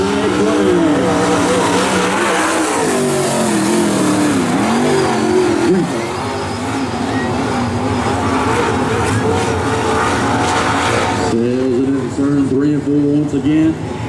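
A late model race car runs a qualifying lap at Sumter Speedway, its engine loud and rising and falling through the turns as it gathers speed, while a commentator talks over it throughout.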